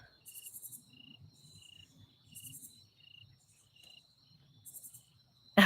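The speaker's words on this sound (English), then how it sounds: "Oh, Linda Sue hears the crickets." Crickets chirp in steady repeating bursts, a faint high trill recurring through the clip, with a low murmur of background noise beneath and no talk.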